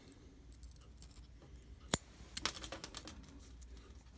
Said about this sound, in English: obviously you got to cut your tag off